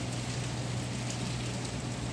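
Steady rain falls outdoors during a prolonged downpour with strong wind, a continuous soft hiss heard alone at low level.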